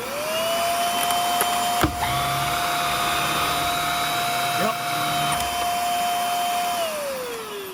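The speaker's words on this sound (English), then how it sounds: "I almost forgot to check if the brush roll spins or not, so we'll check that." A Hoover Air upright vacuum cleaner runs steadily with its motor whine holding a constant pitch, clicks as the brush roll is engaged, then winds down near the end.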